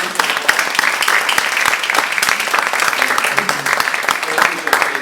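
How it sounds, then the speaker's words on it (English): Warm audience applause after an onstage conversation, many hands clapping steadily with crisp individual claps standing out and a murmur of voices underneath. "So let's give John a big round of applause"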